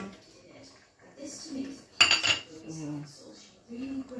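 Dishes and cutlery clink and clatter as they are gathered up, with a sharp burst of metallic clatter midway and a voice speaking faintly underneath.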